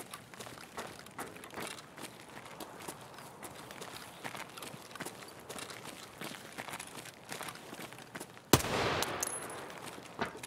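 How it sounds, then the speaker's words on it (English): Rapid bursts of RPK machine gun fire in the shooter game Escape From Tarkov crackle at a distance under footsteps and faint game ambience, ending in a sudden loud, close blast near the end. "God, that gun's loud."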